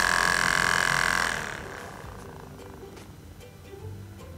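A Style Pro Expert brush cleaner spinning a wet makeup brush dry, a loud high whirring buzz for about a second and a half that quickly winds down to a faint low rattle.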